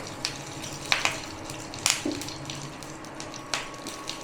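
Curry leaves and a broken green chilli frying in mustard oil for medu vada chutney, a soft continuous sizzle broken by a few sharp spatula clinks and stirring taps close by.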